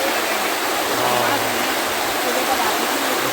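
Rushing fountain water at Brindavan Gardens in Mysore gives a steady, dense roar of spray and splashing that runs unbroken and loud throughout, close at hand and with no other sounds standing out.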